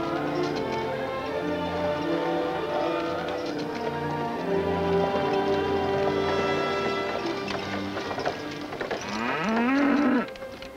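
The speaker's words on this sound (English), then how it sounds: "My cow, thank you." A cow gives one long, loud moo near the end, rising in a drawn-out call over a busy, steady background.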